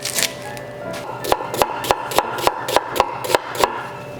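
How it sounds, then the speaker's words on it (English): A knife chops through an onion on a cutting board, making a steady series of crisp, evenly spaced close-up cuts with no voices present. "we're gonna cut up some onion"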